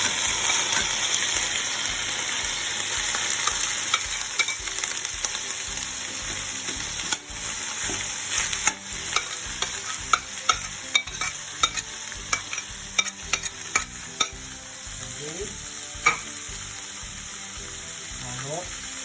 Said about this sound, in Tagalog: It's all these and saute this vegetable